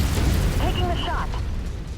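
A mech in the BattleTech game fires a shot: a dense, booming burst under a continuous rumble, with a short rising whine and faint chirping tones partway through, all held at a steady loud level for about two seconds.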